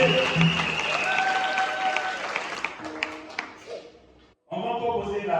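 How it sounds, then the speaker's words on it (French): A church congregation bursts into applause, a loud sustained clapping crowd under talk that fades, then a brief pause before noise resumes. "Est-ce qu'on peut acclamer?"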